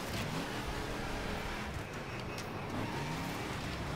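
A dragster engine revving in the racing game The Crew Wild Run, a continuous loud droning roar that rises and falls slightly over a few seconds, with no speech.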